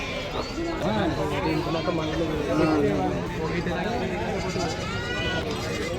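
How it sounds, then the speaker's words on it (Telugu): A flock of sheep at a livestock market in Pebbair, repeated overlapping bleats close by, with people chatting and bargaining throughout. "మొత్తం ఇవి వచ్చేసి 41 గొర్రెలు ఉన్నాయి"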